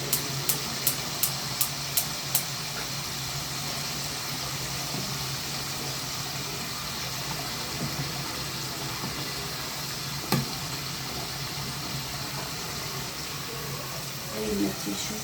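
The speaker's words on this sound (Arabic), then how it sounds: "نحطها شوي على النار ليطلع البخار" A pressure cooker of oil-fried broasted chicken on the stove, steam hissing steadily and continuously at moderate level, with a few sharp clicks at the start and a brief knock midway.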